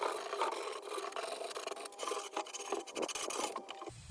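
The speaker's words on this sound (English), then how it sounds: "I gotta sand down all the edges." Edges of wooden shelves are sanded by hand with a steady, close rasping rub.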